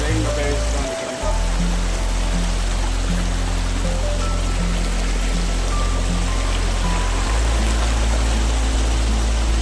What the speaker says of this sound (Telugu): చూడండి ఇక్కడైతే నీళ్ళు అయితే చాలా వేగంగా ప్రవేశిస్తుంది ఇక్కడంతా